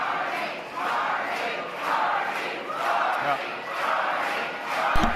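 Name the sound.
crowd cheering at campaign event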